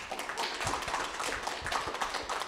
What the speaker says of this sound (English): I think Sandra deserves a massive round of applause, people, for the Go Vegan campaign